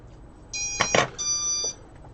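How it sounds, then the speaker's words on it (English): A phone sounds notification alerts: a short burst of bright electronic tones with two sharp clicks, then a second sustained chime, loud and close with no talk. "My phone is blowing up for some reason."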